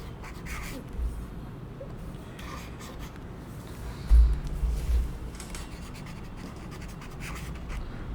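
Pen scratching across paper during an English-medium Std 3 EVS assessment lesson, a soft continuous rub with a few brief louder strokes, close and quiet with no talk over it.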